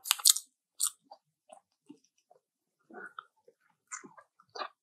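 Close, wet chewing of beef pares and pork sisig at a mukbang meal, in scattered bites and crunchy mouthfuls separated by quiet pauses, with no talking.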